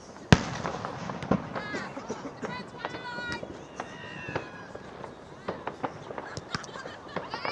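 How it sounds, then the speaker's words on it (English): Fireworks crackle and pop around Peel Park during a university football match, sharp scattered bangs and rapid crackling mixed with crowd noise and people talking. "both in the match and by fireworks around Peel Park"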